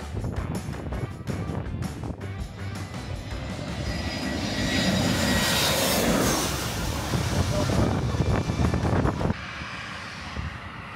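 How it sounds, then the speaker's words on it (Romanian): Jet blast from an airplane at Skiathos airport, a loud, sustained roaring rush that swells midway and keeps going with heavy wind buffeting on the microphone, then drops off sharply near the end. "flama de la avion."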